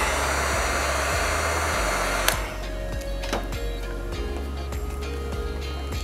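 A heat gun blows a steady, loud whooshing hum onto vinyl wrap while it is stretched around an edge, running continuously with a few sharp clicks and handling noises partway through.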